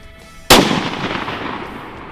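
A single loud rifle shot fired at a target 760 yards away cracks out sharply and then rolls into a long, fading echo across open country during an elk hunting trip.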